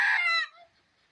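Free-range native chickens kept on a rooftop give a loud, close harmonic squawk or cluck lasting about half a second, then fading to a faint tail. No one speaks.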